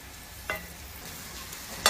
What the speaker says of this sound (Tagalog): Mas masarap ang mushroom kapag nagigisa mo siya masyado.